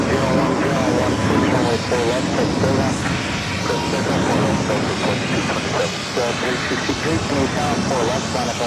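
A Frontier airliner in red fox livery takes off from runway 4 left at JFK, its engines a steady broad roar that holds loud and even throughout, heard from the spotting area.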